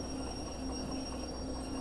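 Steady low rumble of a train rolling along rails in the Derail Valley railway game, with a faint ongoing hum and no distinct clicks, continuous and moderately quiet throughout.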